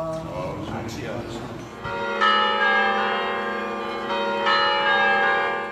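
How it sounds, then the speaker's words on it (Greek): Church bells of the Metropolitan Church of Agios Minas ringing in celebration, sustained resonant tolls swelling after a couple of seconds and continuing, heard over crowd murmur and voices outdoors. "το χαρμόσυνο μήνυμα που ήχησε μέσα από τις καμπάνες του Μητροπολιτικού Ναού του Αγίου Μινά"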